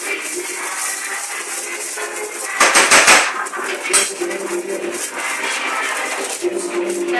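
Spoon scraping and clattering against a pan as rice is dished up to serve alongside chicken kebabs, a burst of loud metallic clinks mid-way amid softer intermittent scrapes and kitchen rattles.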